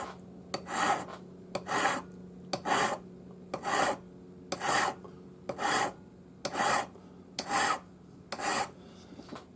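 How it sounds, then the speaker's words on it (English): A number 2 cut flat hand file rasps across the ends of metal wire held upright for a twisted oval bangle, nine even back-and-forth strokes in a steady rhythm, close and clear with no talk. "So file the ends nice and flat, and I just hold the metal vertical. Use my number 2 cut flat hand file."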